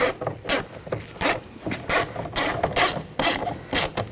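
Screws are driven into a Nissan Rogue mirror bracket, a run of sharp rhythmic ratcheting clicks, close and fairly loud, repeating about every half second.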